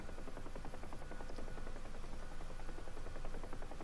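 A helicopter in the DCS flight simulator flies low between buildings with a steady, dense rotor and engine roar, loud and continuous throughout with no talk.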